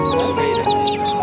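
Chickens, sonali hens and chicks, cluck and squawk in a busy poultry and pigeon market, with repeated rising calls layered over a constant humming background, loud and close.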